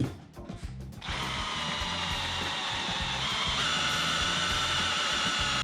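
A battery drill boring into metal lubricated with cutting oil starts after a second of clatter, then holds a loud, steady, high whine that runs on without a break to the end.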